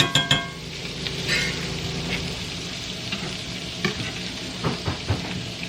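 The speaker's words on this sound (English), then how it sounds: "I want my onions to get just translucent, and then I'm going to put the garlic in" Onions sauté in a pan until translucent, a steady close sizzle broken by spoon scrapes and light clinks against the pan, with no talking.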